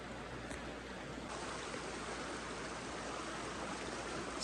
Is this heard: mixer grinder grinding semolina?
no